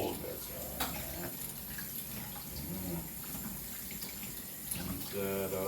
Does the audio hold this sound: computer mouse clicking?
no